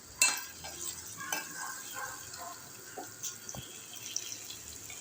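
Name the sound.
ginger garlic paste and curry leaves frying in a pan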